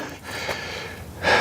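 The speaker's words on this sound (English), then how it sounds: "I know I'm panting like a beast" Heavy, breathy panting from a hiker who has just climbed El Picacho near Teotitlan, Mexico. Close, rough breaths rise and fall, with a stronger exhale at the end.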